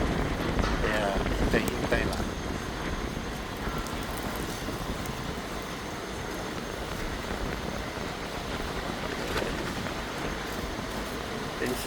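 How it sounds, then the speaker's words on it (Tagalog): Overnight rain near Dammam Port, Saudi Arabia, a continuous broad hiss of falling rain with wind buffeting the microphone, while a person speaks briefly over it. "Kaso lang umuulan"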